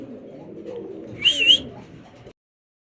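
Pigeons of racer and Spanish pouter type give a brief soft coo, close and fairly quiet, over low background murmur before the sound cuts off.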